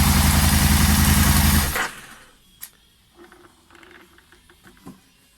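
A motorcycle engine recently serviced, with oil on its exhaust headers and running on only two cylinders, drones loudly and steadily, then cuts off abruptly. Faint clicks and small shuffling noises follow in near silence.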